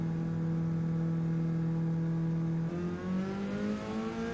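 A race car drives out on track for qualifying, its engine holding a steady loud drone and then rising in pitch as it accelerates, up close with no talking.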